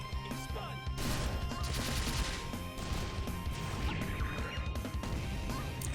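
Rufus's Expunge skill effect in the game Grand Chase Classic throws out a dense, continuous barrage of crashing, smashing impacts and rapid bursts that stay loud and busy for the whole stretch.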